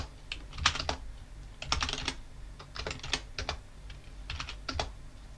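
Close clicking on a computer keyboard while entering Linux terminal commands, with quick bursts of keystrokes separated by short pauses and no voices.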